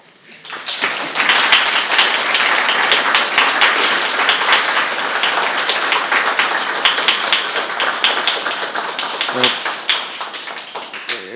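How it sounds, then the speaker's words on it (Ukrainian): Loud, dense audience applause after a UX design talk, many hands clapping rapidly and evenly from the near crowd, swelling in and sustained for several seconds before tapering slightly. "Дякую, друзі, за такі рясні оплески."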